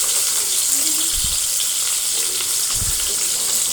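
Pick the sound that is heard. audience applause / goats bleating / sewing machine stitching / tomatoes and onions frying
tomatoes and onions frying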